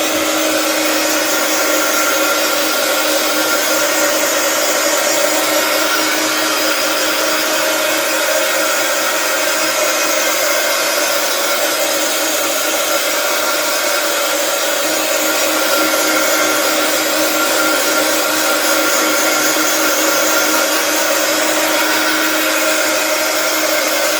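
A heat gun blows continuously over poured acrylic paint, a loud, close, unbroken hiss-roar of air that never changes across the whole stretch, with no voices.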